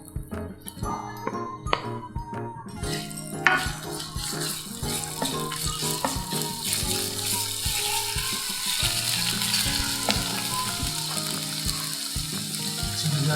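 Ginger sizzles in hot cooking oil for sweet and sour lapu-lapu, a continuous bright crackling fry with scattered clinks and scraping, steady and close from start to finish.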